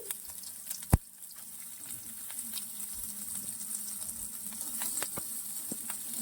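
Onion, cloves and coconut fry in hot oil for a lentil gravy, giving a steady close sizzle and hiss with a sharp clatter near the start and no talk.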